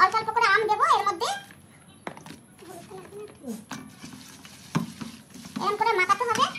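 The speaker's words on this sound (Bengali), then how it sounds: "এবার এটাকে একটু মাখিয়ে নিচ্ছি, ভালো করে একটু মাখিয়ে নেব।" Spices being mixed by hand in a bowl make soft, squelchy rubbing and stirring noises, heard between and under a woman's speech and a higher, childlike voice.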